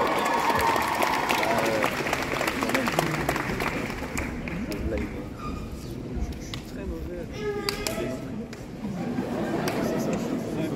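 Audience at a cosplay show on the Japan Expo Paris stage, crowd noise with clapping and cheering building at the start, then easing into murmuring chatter, with voices talking throughout.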